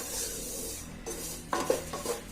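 Dry oats and dried fruits being sautéed in a pan for an oats granola chikki, giving a soft scraping rub of a spatula against the pan, quiet and steady, then a few sharper stirring scrapes toward the end.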